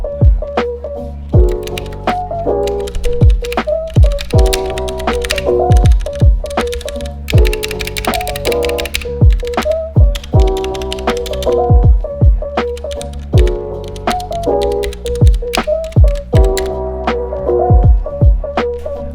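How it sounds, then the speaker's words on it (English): Steady mechanical keyboard typing on a Ducky One 2 Mini with Cherry MX Brown switches, close up and loud, with bursts of clacky keystrokes and occasional heavier thocks from larger keys. "for the keyboard we have a Ducky 1-2 Mini with Cherry MX brown switches"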